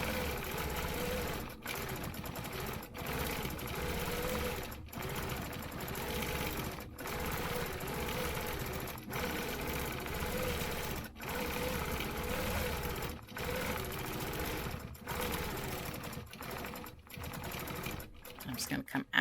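A sewing machine stitches a stencil quilting design, running close and steadily in a fast mechanical rattle broken by brief stops between runs, with a voice speaking over it at times.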